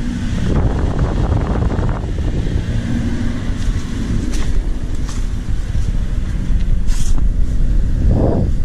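Steady rushing air from the floor vents of a Chevrolet Silverado HVAC system, a continuous broadband blow heard close to the vent with no talking.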